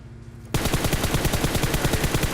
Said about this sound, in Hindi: मैं गाड़ी पे गोली चलाता हूँ और बंदा ढिल जाता है